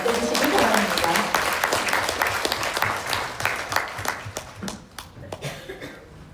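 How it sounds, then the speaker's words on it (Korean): An audience at a women CEOs' economic forum lecture in Jeju claps to welcome a speaker, a full burst of applause that gradually thins into scattered claps as it fades. "삶과 사람을 잇는 삶을 실천해 오신 강태선 회장님을 큰 박수로 맞아주시기 바랍니다."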